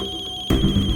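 A mobile phone ringtone sounds in a tense scene from a Hindi TV crime drama. A steady electronic tone rings first, then a louder, fuller burst of ringing takes over halfway through, close and loud, with no talking.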